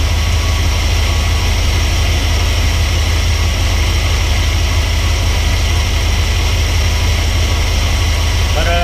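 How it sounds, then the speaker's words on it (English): A 1964 Dodge Custom 880 V8 fitted with a new 4-barrel intake idles steadily while still cold, a continuous low rumble close to the microphone with no speech. "it runs and idles pretty good"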